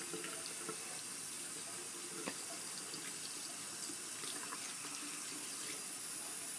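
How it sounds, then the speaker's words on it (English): Tap water runs steadily into a sink as makeup brushes are rinsed under it, a faint, continuous splashing stream with occasional small drips and shifts as the bristles pass through. "And just run it under the water."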